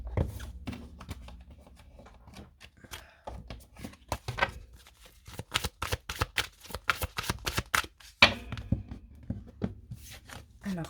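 Tarot cards are shuffled by hand in quick bursts of crisp riffling slaps and flutters, close and fairly soft, with short pauses between runs.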